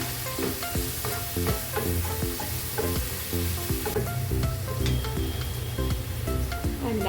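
Maggi masala noodles with chili flakes frying in a pan, a steady loud sizzle broken by repeated scraping and clinking strokes of a spoon stirring, close and with no talk.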